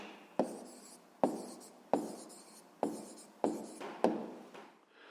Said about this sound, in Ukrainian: Гаразд, записуємо відповідь.